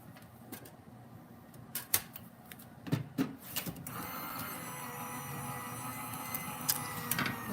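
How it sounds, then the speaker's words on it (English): A die cutting machine runs a piece of foil toner sheet through in a sequence of close mechanical clicks and knocks, then a steady whirring grind, with no talk. "I'm just gonna cut off a piece that's big enough for the die and die cut it just like cardstock."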